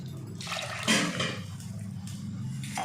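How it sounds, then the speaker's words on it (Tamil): An extra glass of water goes into a pot of coconut milk rice, giving a steady pouring, splashing stream that runs across the whole stretch at close range, louder near the start. "அதனால் நான் 1 கிளாஸ் கூட எக்ஸ்ட்ரா தண்ணி ஆட் பண்ணிக்கிறேன்."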